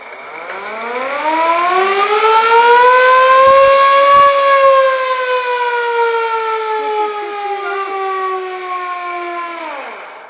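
A fire engine siren at the Orlando Fire Museum, a loud mechanical wail that winds up slowly, holds a long sustained howl, then sags and drops away at the end, close and alone.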